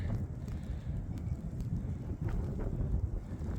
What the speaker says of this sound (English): The wind has really picked up here.